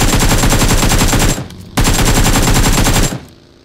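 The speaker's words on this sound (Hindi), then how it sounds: "अब देखना ये फायर करते हैं या नहीं।" Rapid automatic gunfire in the PUBG Mobile game, two loud sustained bursts of dense shots separated by a brief pause, with no voices over it.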